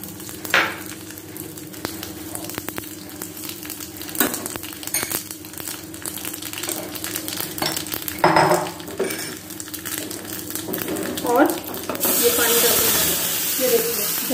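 Neem leaves with red and green chillies dropped into hot oil after mustard seeds pop, a tadka for mango kadhi, giving a loud close hiss and crackle that builds into a bright, steady sizzle toward the end, with clinks of a pan and spoon.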